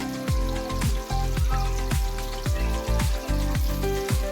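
Onions, green chillies, curry leaves and tomatoes fry in a pan. A loud, close sizzle is punctuated by regular stirring knocks about twice a second over a steady tonal background.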